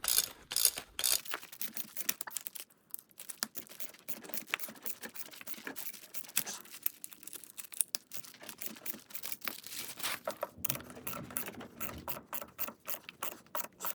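Bolts being tightened on a Volvo 850 T-5R rear subframe, with rapid ratchet clicks in bursts and metallic tool handling, close and fairly quiet with no talk.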